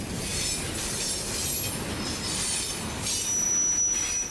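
A train running through the Sahara in Mauritania gives off a continuous grinding wheel squeal and rolling rattle, steady and moderately loud with no voices.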